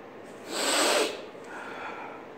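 A single sharp, close nasal sniff draws in the aroma of Jameson Caskmates Stout Edition whiskey, a short breathy burst rising and falling over a quiet room.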